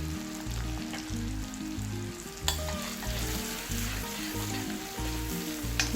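Crushed shallots, dried red chillies, curry leaves and a quarter teaspoon of turmeric frying in oil, a close, continuous sizzle and crackle with occasional sharp pops and stirring knocks, with faint rhythmic music underneath and no talking.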